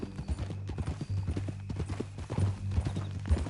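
A horse's hooves clip-clop at a steady walking rhythm in Red Dead Redemption 2, the close, even footfalls sounding over a low background hum.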